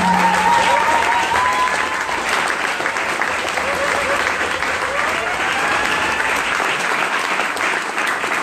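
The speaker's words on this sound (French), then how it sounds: "Des gros applaudissements pour ça." Loud, sustained audience applause in a hall during a startup pitch and speaker session, an even roar of many hands clapping that continues without a break from start to finish.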